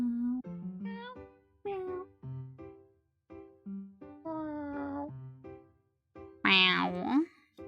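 Cats in a video game meow one after another, each with its own pitch and character, from short chirps to drawn-out cries, ending in a louder, harsher, grumpy-sounding meow.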